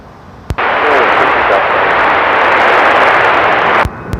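An Alaska Airlines airliner takes off from runway 34 right at Seattle-Tacoma airport, a loud, steady broadband engine roar that starts abruptly after a sharp click and holds for about three seconds before cutting off.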